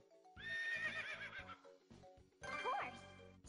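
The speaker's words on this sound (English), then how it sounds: "Horse. To call the horse," A horse neighs in a long, shrill, wavering whinny, then gives a second shorter whinny, with steady hoof clip-clop and a low rhythmic beat running underneath, loud and close.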